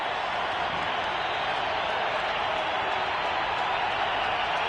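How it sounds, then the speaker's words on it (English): Steady roar of a football stadium crowd at an Eagles at Broncos NFL game in 2021, a dense continuous wall of cheering and noise that holds evenly throughout without letting up. "crowd making itself known here"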